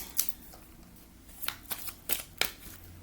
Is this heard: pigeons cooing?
no